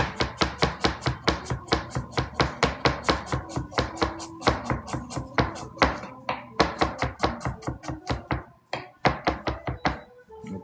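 Red onion sliced with a knife on a cutting board, a fast, steady run of close, crisp chopping knocks with only a brief pause near the end.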